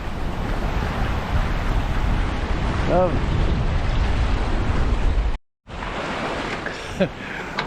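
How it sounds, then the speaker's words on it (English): Steady wind of about 21 knots and breaking waves rush past a small sailboat at sea off Iceland's north coast, a loud, continuous roar that briefly cuts out near the end. "21 knots of true wind."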